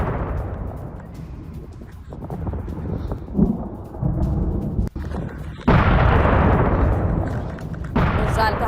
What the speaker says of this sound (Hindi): सेना के ठिकानों पर भीषण धमाके भी हुए हैं